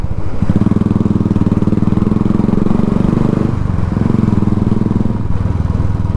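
Motorcycle engine running steadily throughout as the rider moves through heavy traffic on a ring road in Ranchi, Jharkhand, with a brief dip in the engine note midway; loud and close, with no talk.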